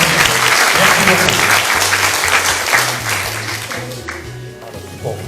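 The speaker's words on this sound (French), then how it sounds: "Vous pouvez applaudir donc ces 2 personnes" A hall audience at an awards ceremony for volunteers and athletes applauds two volunteers, a dense, steady roar of clapping filling the room for the whole stretch and tapering slightly near the end, with faint low voices underneath.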